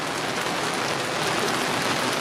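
Steady rain falling at a campsite, a dense, even hiss of drops on surfaces that holds without pause, close and moderately loud, with no voices.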